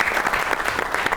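A studio audience gives a short, dense burst of clapping for actress Bushra Ansari on a comedy talk show, steady and fairly close throughout.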